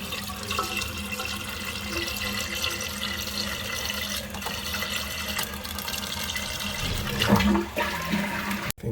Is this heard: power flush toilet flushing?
yes